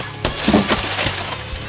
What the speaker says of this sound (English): A couple times when Rick was trying to smash a window,